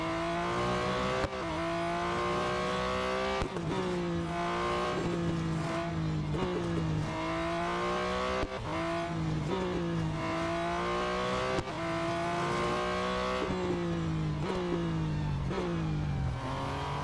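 Race car engines in Real Racing 3 rev hard without a break during a Tier 6 autocross on the Circuit of the Americas national circuit. A rising whine keeps getting cut by quick upshifts, with loud, steady engine noise throughout.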